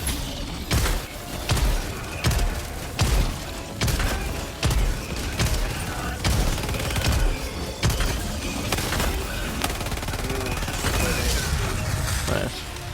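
Shooter video game Helldivers 2 with repeated gunfire: sharp booming shots and impacts burst steadily every half second or so over a dense battle background.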